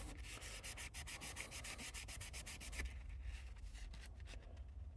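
Liquid latex being rubbed off a rusty-finish surface by hand, a steady dry scrubbing that runs loud and continuous for about three seconds, then continues more softly with a few scattered strokes.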